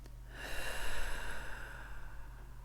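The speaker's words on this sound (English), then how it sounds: "Take a deep breath." A single deep breath taken close by, a soft airy inhale that swells quickly, peaks, then tapers off into quiet, with no talking.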